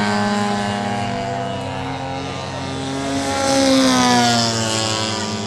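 Propeller aerobatic airplane performing at an air show, a loud buzzing engine drone whose pitch shifts as the plane maneuvers and swells in volume as it passes nearer.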